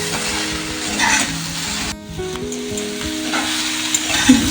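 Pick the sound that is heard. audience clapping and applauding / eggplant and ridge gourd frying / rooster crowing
eggplant and ridge gourd frying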